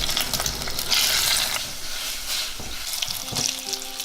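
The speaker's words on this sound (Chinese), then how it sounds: "煸到出油" Pork belly sizzles and fries in a little oil in a clay pot, a steady, close crackling hiss with no talk.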